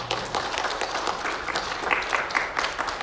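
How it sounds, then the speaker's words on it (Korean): Church congregation applauding during a Korean Methodist worship service, steady scattered clapping that fills the room for a few seconds with faint voices underneath. "우리 크게 박수하겠습니다"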